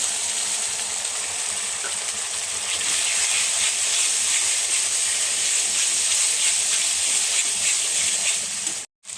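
Spices with tomato paste, turmeric and Kashmiri chili powder sizzle in a hot pan with a constant, close, hissing fry that holds steady throughout, then cuts off briefly near the end.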